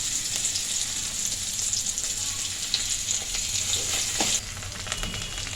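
Garlic paste frying in a pan for a potato, cauliflower and paneer curry, a continuous close sizzle and crackle with faint stirring scrapes, no talking.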